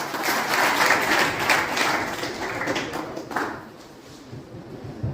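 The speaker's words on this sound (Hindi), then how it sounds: "कृपया जोरदार तालियां बजाएं सर के लिए।" An orientation program audience claps for the accountant, a fairly close burst of many hands that swells early and gradually thins out to scattered claps and taps toward the end.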